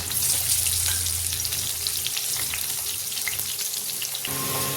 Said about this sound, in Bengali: সিদ্ধ আলুগুলো ভেজে নেব।